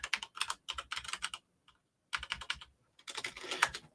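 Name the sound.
typing a password on a computer keyboard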